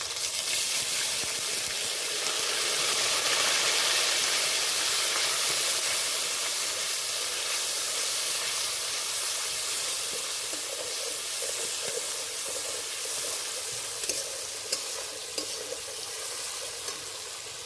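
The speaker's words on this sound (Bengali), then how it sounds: "কুচি করা টমেটো আদা বাটা শুকনো লঙ্কা বাটা অল্প একটু জল দিয়ে দেবো" Chopped tomato with ginger paste and dried red chilli paste sizzling loudly in a pan as a little water is added, a dense continuous hiss and spatter that fades slightly toward the end.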